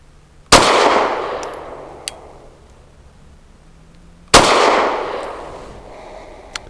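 Two sharp, loud pistol shots from a Rost Martin RM1C, several seconds apart, each with a bright crack and a decaying echo, plus faint metallic clinks between them.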